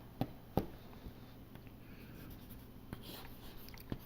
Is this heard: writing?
yes